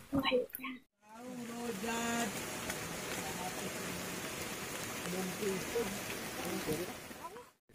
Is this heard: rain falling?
yes